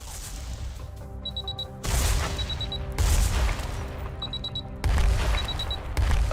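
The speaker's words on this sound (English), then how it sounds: "Switch to third mode and shoot targets down with detonating missiles." Detonating missiles fired at robot targets in the game AI Olympius: heavy booming blasts arrive in four surges roughly every one to two seconds, loud and close, over a steady mechanical hum with short high beeping tones between.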